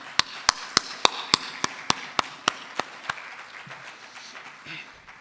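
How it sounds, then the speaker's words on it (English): About a dozen sharp, evenly spaced claps ring out close by at an open house, slowing and softening, then giving way to a low murmur of scattered clapping. "let's have a big round of applause because you reached this moment"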